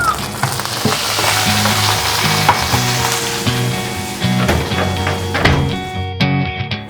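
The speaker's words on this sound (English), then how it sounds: "hear that sizzling sound" Homemade roast chicken sizzling and crackling loudly in hot fat, a close, continuous frying hiss dotted with sharp pops and light knocks, no speech over it.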